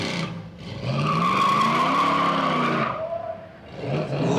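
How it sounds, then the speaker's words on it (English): A car attempting a flick spin at Summernats 37, tires squealing and skidding loudly with engine roar rising and falling, a sustained screech that fades and then returns. "Example B of attempted flick spin."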